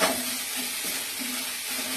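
Vegetables for uttapam frying in a pan while being stirred, giving a steady, gentle sizzle with soft recurring scrapes, close and fairly quiet, with no talking.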